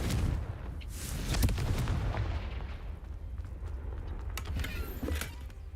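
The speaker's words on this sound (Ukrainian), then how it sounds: "Це конфрінго виходить не тільки вогняне, воно певною мірою вибухове" Confringo, an explosive fire spell from the video game Hogwarts Legacy, set off repeatedly as several sharp booming blasts over a steady rumbling game background, with no talk.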